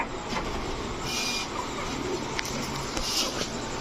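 Pigeons coo softly within a steady, noisy background hum that persists throughout.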